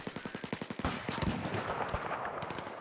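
Rapid automatic gunfire in a competitive multiplayer shooter match: a quick burst of about eight evenly spaced, punchy shots, then a dense, chaotic wash of overlapping gunfire and blasts that continues to the end.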